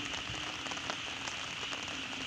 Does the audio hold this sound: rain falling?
yes